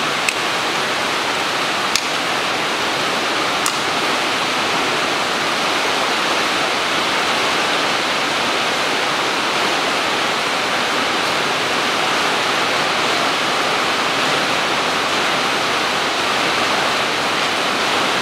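A steady, loud rush of spraying liquid goes on without a break while the oil pan from the CVT gearbox of a 2009 Nissan Qashqai 2.0 4WD is washed. A couple of faint clicks sit near the start, and no one talks.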